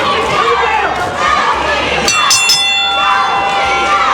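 A wrestling crowd at an NWA New South Cruiserweight title match cheers and shouts loudly throughout, a sustained roar of voices with a bell-like ringing tone rising near the end.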